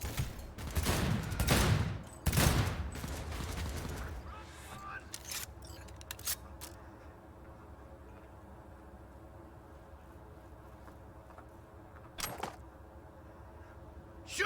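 Gunfire in a Cyberpunk 2077 shootout: a few loud close bursts of shots early on, then scattered sharp single cracks and clinks over a quieter hum, with voices talking in between.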